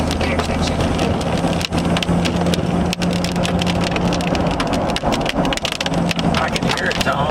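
Large hail pounds the road at the Highway 412 and I-35 intersection in northern Oklahoma during a severe thunderstorm: a loud, dense, continuous clatter mixed with rain roar and occasional sharper hits.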